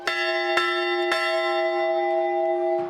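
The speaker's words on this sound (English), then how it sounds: "which called for the traditional ringing of the victory bell by the team" A high school's victory bell rung by the football team after a playoff win, clanging in three loud strikes with a long, humming ring that carries between them, no voices.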